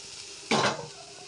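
Homemade sauce poured into a pan of pasta, a short burst of sizzling and splashing with a clink of utensil against the pan, then settling back to a quiet background.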